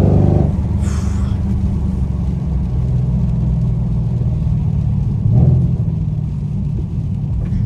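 A stage 2 tuned Mercedes C63 rumbles loud and deep, with a sharp rev burst at the start that settles into a heavy, steady low growl and a second brief surge midway, close and alone.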